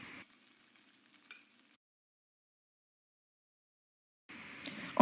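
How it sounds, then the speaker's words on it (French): Chicken pieces brown in a pan with a soft, faint sizzle that breaks off into a silent gap before returning briefly with a few light clatters near the end. "je fais dorer chaque côté environ 5 minutes"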